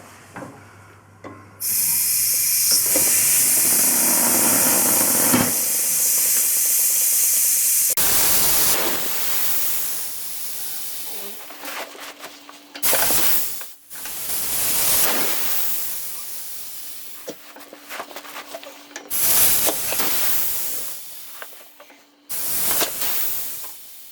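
Aerosol lubricant sprays onto a Lotus Excel car part in several hissing bursts, one long blast followed by shorter spurts with pauses between, close and loud.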